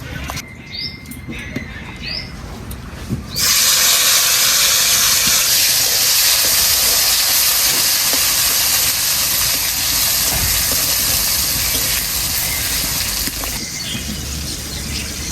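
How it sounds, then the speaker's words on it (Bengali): Wild pointed gourd (potol) slices drop into mustard oil left from frying potatoes, bursting into a loud, steady, close sizzle after a few quieter seconds of handling sounds. "আলু ভাজা তেলটার মধ্যেই পটলগুলো ভেজে দেবো।"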